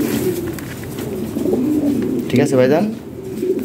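Lahri Siraji pigeons coo nearby in soft, low rolling calls, one rising coo standing out midway, while someone talks over them.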